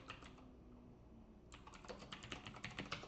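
Someone types on a computer keyboard, producing a close, steady patter of clicks that grows busier and denser partway through, with no talking.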